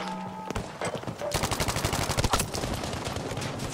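Rapid automatic gunfire in Battlefield V, a dense run of sharp repeated shots following a quieter opening, moderately loud and continuing steadily to the end with no talking.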